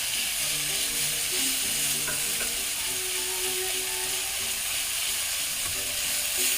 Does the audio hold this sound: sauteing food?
yes